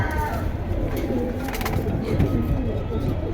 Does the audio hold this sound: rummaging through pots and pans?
no